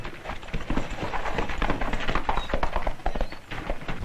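Steady, busy clip-clop of horse hooves over a constant rumbling background, fairly loud and continuous throughout.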